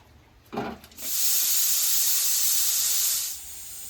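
A pressure cooker boiling eggplant in salted water on a gas stove lets out a loud, steady steam whistle that starts abruptly after a brief clatter, holds for about two seconds, then drops to a softer hiss.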